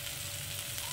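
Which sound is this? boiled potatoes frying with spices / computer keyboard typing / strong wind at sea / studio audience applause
boiled potatoes frying with spices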